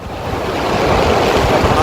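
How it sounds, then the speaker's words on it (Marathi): A steady, loud roar of water rushing from the six opened gates of Koyna Dam, releasing about ten thousand cusecs, fills the whole stretch, broad and continuous like heavy flow churning past, with no voices. "आता कोयनेतून दहा हजार क्युसेकनं पाण्याचा विसर्ग सुरू करण्यात आलेला आहे"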